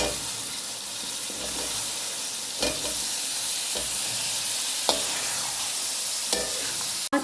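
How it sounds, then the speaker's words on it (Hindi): Peas and potatoes fry with spices in a pan, giving off a steady, fairly loud sizzle. Occasional scrapes and knocks come from the stirring, and no one talks. "अब मैं मटर इसके अंदर ऐड कर रही हूँ और मटर के साथ ही आलू भी इसके साथ ऐड करके मैं इसकी तकरीबन 5 मिनट भुनाई करूँगी"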